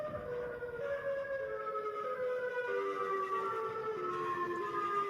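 Siren Head, a creature in a video game, lets out a long, wavering siren wail whose pitch slowly glides and bends, sustained and loud with no talking over it.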